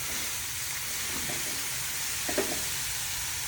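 Mutton and green spring onion tops sautéing in a pan, a continuous soft hiss with a brief clink of a utensil partway through.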